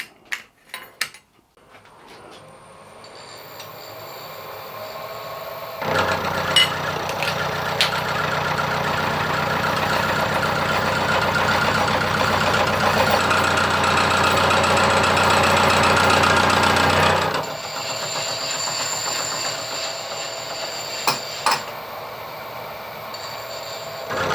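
A machine mills flats into metal stock to form a hex, building to a loud, steady grinding roar with a rumbling vibration for about ten seconds before dropping back to a quieter running hum.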